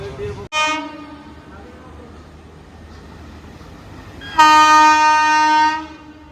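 Pune–Kanyakumari Express pulling into a station, a long loud horn blast near the end over a steady rumble of the moving train, with a short horn note at the start.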